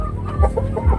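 Aseel chickens in a breeder yard cluck in two quick, close bursts over a low background murmur, with no speech.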